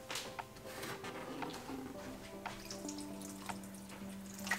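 Tap water runs into a small cooking pot of seasoned food in a home kitchen, a steady moderate stream with a rising fill tone and a few light knocks, no talk over it.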